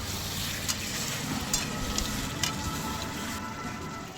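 Chicken kosha frying down in a pan while being stirred to keep it from sticking, a dense steady sizzle with a few sharp scraping strokes spaced about a second apart, close and without speech.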